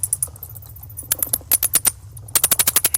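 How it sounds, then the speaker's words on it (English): Bats in a cave give off rapid bursts of high, sharp chirps and clicks, clustered in quick runs, over a low steady rumble. "These are bats in a cave"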